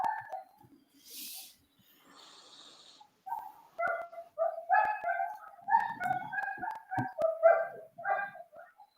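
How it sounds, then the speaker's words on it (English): A dog barks and yips in repeated short bursts, some of them whimpering. The sound is moderately close and comes through a remote online meeting connection, with faint background noises. "Someone has a dog with noises around him"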